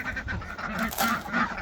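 Several soft, nasal quacks and honks from nearby ducks come in short bursts, fairly quiet, with no talking.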